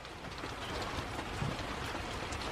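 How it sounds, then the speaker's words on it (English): Steady rain keeps falling in breezy conditions, a low, constant hiss of drops with a few slightly louder patters, faint and unbroken. "Looks like the rain's calming a little bit"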